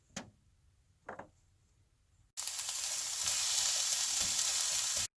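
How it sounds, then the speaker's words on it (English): Onion hits hot oil over medium heat for sesame chicken, two quiet knocks first, then a sudden loud, bright sizzle that holds steady for about three seconds before cutting off. "and fry some onion"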